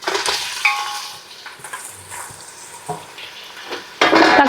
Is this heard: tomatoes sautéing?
yes